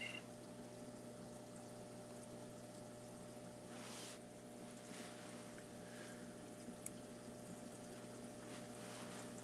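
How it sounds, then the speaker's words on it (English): Beneath a 90-gallon aquarium, the sump's water pump hums steadily with a low tonal drone, while water gurgles and trickles softly in the background, quiet and continuous, with no talk. "This is the sump underneath the 90-gallon."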